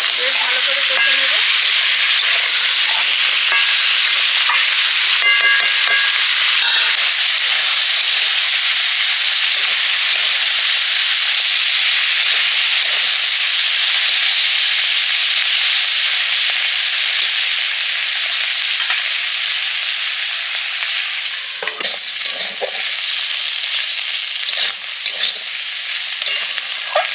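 Loud, steady sizzle of vegetables frying in a pan with onion and shrimp, stirred now and then with scraping clatters, heard close up and continuous with no voices.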